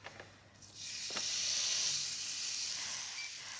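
Lamb burgers land on a hot char grill, a few soft knocks giving way to a rising, steady hiss of sizzling that holds close and clear to the end; no talking.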